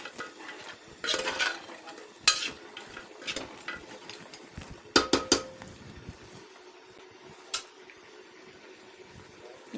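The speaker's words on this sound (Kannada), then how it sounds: "ಇದು ಚೆನ್ನಾಗಿ ಫ್ರೈ ಮಾಡ್ಕೋಬೇಕು" A spoon stirs chicken sambar masala frying in a pan, giving sharp scraping clinks against the metal over a soft low sizzle, with several louder knocks spread through the clip.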